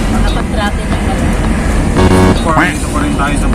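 Steady road traffic noise in Bago City, Negros Occidental: a dense, continuous rumble of passing cars and buses close by, with a voice talking over it.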